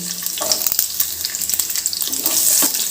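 Sliced onion and capsicum hit a hot pan for paneer capsicum masala, giving a steady close hiss of frying with crackling spits and brief stirring clatter.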